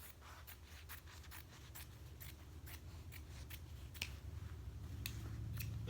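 Scissors snip through a strip of apron fabric in a quick, uneven series of crisp cuts, close and fairly quiet over a low steady hum.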